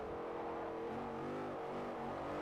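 A V8 muscle car engine in the video game Forza Motorsport 4 drones and revs steadily throughout, a deep continuous rumble with shifting pitch and no talking.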